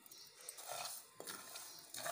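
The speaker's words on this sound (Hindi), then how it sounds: "ये ज़ीरा डालेंगे, सूखा धनिया डालेंगे और इनको रोस्ट कर लेंगे।" Cumin and dry coriander seeds dry-roasting in a frying pan make a soft, steady rustle and scrape as they are stirred, with a few light clinks, faint and close with no talking.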